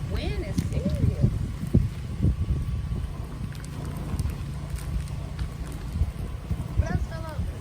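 Strong outdoor wind buffeting the microphone in a steady low rumble beneath someone talking, with scattered thumps and rustles throughout.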